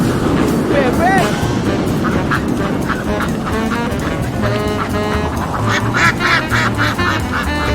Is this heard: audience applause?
no